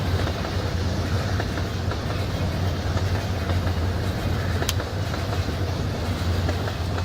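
Railcars in a train video game roll along the track with a steady, continuous rumble and low engine-like drone, a faint clickety-clack running beneath, one brief sharp squeal near the middle, and no talk.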